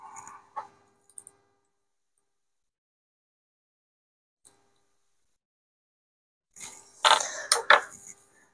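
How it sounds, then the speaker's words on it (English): Screws being taken out of a 3D printer mount: faint, scattered metallic clicks and ticks with long quiet gaps, then a brief burst of louder rattling and handling near the end. "Get the original screws back out."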